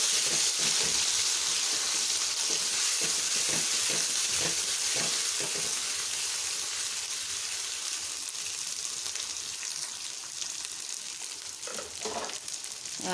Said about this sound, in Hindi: 1 टेबलस्पून भर के मैं लहसुन, अदरक और हरी मिर्चों का पेस्ट डालूंगी। भुनाई कर लें अच्छी तरह से।